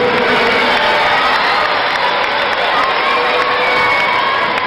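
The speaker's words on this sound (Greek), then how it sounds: "Χειροκροτήστε τους αθλητές μας" A loud, dense crowd cheers, whoops and claps without pause for athletes who won first place and a gold medal at a sports event. The roar is continuous and fills the whole stretch.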